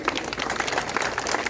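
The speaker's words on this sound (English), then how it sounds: "you deserve a round of applause for yourself" An audience at a school ceremony claps in a brief, dense burst of applause, steady and moderately loud.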